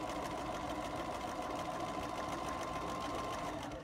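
A sewing machine stitches through a quilt, running as a steady fast mechanical whir that stays close and even, then slows at the end.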